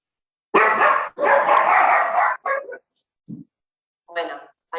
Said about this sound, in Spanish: Bueno, hay perritos.